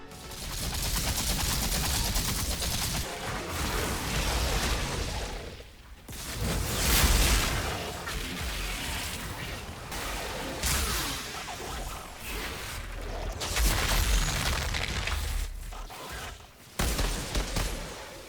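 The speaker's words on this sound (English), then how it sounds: "the combat feels impactful, almost as if you were using a real weapon" Outriders shooter combat with continuous gunfire, whooshes and booming explosions, dense and loud throughout with brief dips.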